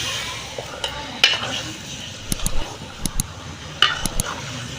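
A spoon scrapes and clinks against a pot while country chicken is mixed for an old-style Naatu Kodi curry, light sizzling underneath and a few sharp metallic taps, close and moderately quiet.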